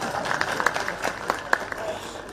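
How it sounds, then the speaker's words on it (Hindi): An audience at a Himachal Day event with the chief minister claps in a loose patter of applause, individual claps popping out, with a voice briefly audible over it. "महिलाओं को ताली बजानी चाहिए"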